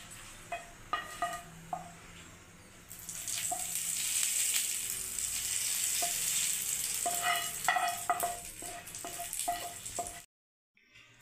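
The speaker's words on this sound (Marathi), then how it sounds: "बघा आता ही फोडणी आपण चटणीवरती ओतून घेऊ." Hot tempering with curry leaves and dried red chillies poured onto chutney for dal vada, giving a loud, steady sizzle that swells and then fades, with scattered clinks of utensils before and after.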